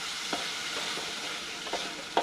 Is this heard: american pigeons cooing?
no